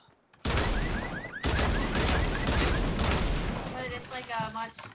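Dual handguns firing in a Fortnite match, a loud dense burst of rapid shots with booming impacts that runs for several seconds, with a voice talking over it.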